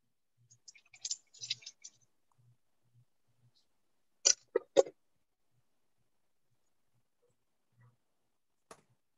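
Quiet clicks and taps on a computer keyboard, a scattered flurry early then two sharper bursts midway and a lone tick near the end, with no talking over them.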